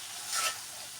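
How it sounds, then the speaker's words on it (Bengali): A whole chicken cooking with spices in a pan makes a faint, brief sizzle with a soft stirring swell in the middle, heard alone without talk. "আজকে আমি একটা আস্ত মুরগি সকল ধরনের মশলাপাতি অ্যাড করে রান্না করছি"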